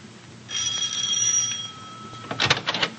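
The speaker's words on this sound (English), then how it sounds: "at the Gibbs home, the doorbell rings." A doorbell rings in a 1946 radio drama set in a family home, a sustained tonal ring lasting about a second, followed by a short burst of quieter knocking or clatter near the end.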